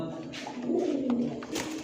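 Pigeons in a loft give soft, low, rolling coos close by, one gentle murmuring call after another with no talk over it.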